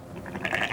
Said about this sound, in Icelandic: Þetta er kind.